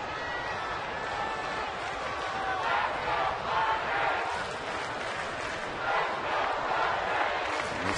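A baseball crowd of 28,000 at Petco Park in San Diego, during a Pirates–Padres game, does the wave: a steady distant roar of many voices that swells in loud rolling surges, then eases, with no clear speech.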